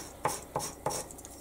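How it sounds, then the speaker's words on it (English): A small decoration bead piece rubbed on sandpaper laid on a flat surface: three slow, evenly spaced gritty scraping strokes, close and fairly loud, with no talking. "put a bit of sandpaper just down on a flat surface and just actually rub the piece on the surface"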